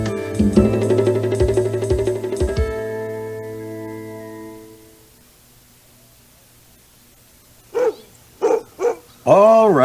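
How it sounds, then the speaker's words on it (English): A dog on a sheep farm barks three times near the end, sharp and close, after a fading musical passage and a stretch of near silence. "All right, Blackie, that's enough barking."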